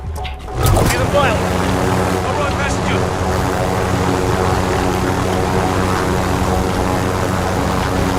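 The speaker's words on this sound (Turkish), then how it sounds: "Ağır saldırı helikopteri." A heavy attack helicopter in the video game Call of Duty Warzone roars loudly and steadily with a constant rotor and engine drone after a brief rising onset, while players talk over it.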